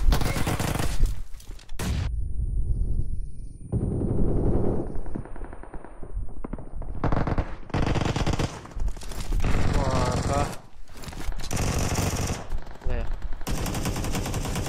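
Rapid machine-gun bursts and gunshots from a shooting video game, loud and near, repeating in dense volleys across the clip with brief gaps, sometimes under a person's voice.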